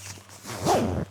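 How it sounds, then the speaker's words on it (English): A zipper is pulled up on a fishing rain coat in one quick rising rasp lasting about half a second, close and fairly soft, with no talk. "We'll zip it up here."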